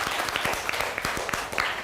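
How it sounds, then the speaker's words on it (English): A class of students claps together in a classroom, with distinct, fairly even hand claps layered over a general patter of applause, moderately loud and close. "Clap everybody for him."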